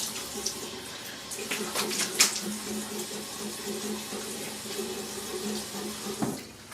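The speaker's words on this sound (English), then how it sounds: "So I'll rinse off this alum." Tap water running steadily into a sink to rinse an alum block after a shave, a close, continuous splashing rush with a few brief clinks.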